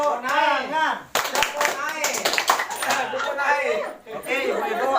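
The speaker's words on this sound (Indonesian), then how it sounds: "Tepuk tangan." A small group of women at an outdoor community hand-washing training session claps in a short burst of applause, fairly close, with voices talking over and around it.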